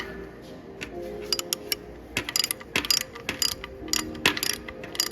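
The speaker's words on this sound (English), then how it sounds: "put a big ratchet on it, tighten it down" A large ratchet tightens a 9/16 stud, clicking in close, loud bursts of quick pawl ticks with short pauses between strokes.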